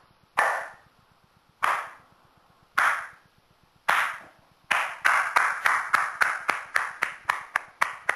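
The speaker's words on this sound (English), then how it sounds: "the world's first slow clap" A slow clap builds: four single, widely spaced hand claps ring out with a short reverberant tail, then the claps come faster in a steady, accelerating run, each one crisp and close.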